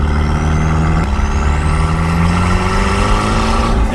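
Mazda Miata with a cheap $150 turbo kit idling: a loud, steady engine drone with a rising turbo whine climbing gradually in pitch over a few seconds, close and continuous.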